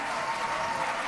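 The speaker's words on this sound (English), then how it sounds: "listen to the applause." Dense, continuous applause fills the Israeli Knesset chamber during a vote count, a crowd of many hands clapping steadily and loudly for about a second, with a faint murmur of voices underneath.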